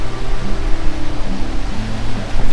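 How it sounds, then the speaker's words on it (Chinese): Yosemite Falls in Yosemite National Park, running with heavy spring flow, sends up a loud, steady, broadband roar that fills the air without a break, close and powerful, with no voices over it. "已经可以听到很大声的瀑布的声音"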